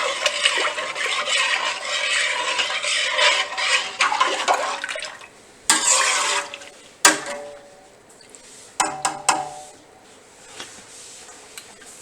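Cheese being stirred in a pot during home cheese making, a sloshing, liquid swirl that runs for several seconds, then gives way to scattered clinks and splashes of a spoon against the pot.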